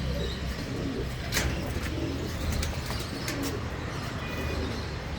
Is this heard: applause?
no